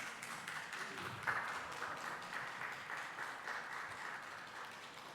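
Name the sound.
audience applause for a child at an award ceremony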